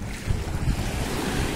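Surf washing onto a sandy beach shore, a steady windy rush of breaking waves with low rumbling swells, close and continuous with no voices.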